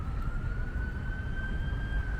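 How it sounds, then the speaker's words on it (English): A distant emergency vehicle siren holds a thin, slowly rising tone over low traffic rumble on a quiet Bronx street near Pelham Parkway, faint and steady throughout. "Minus the sound of that siren"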